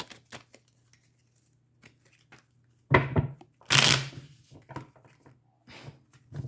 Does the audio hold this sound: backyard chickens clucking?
no